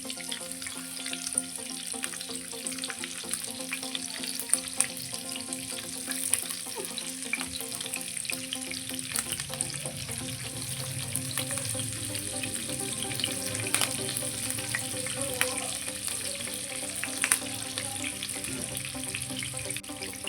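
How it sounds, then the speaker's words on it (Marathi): Bangda (mackerel) coated in rava frying in a pan, producing a continuous, moderately quiet sizzle that stays even from start to end with no talking. "आणि हे बांगडे आपल्याला ह्याच्यावरती फ्राय करायला ठेवायचे आहेत"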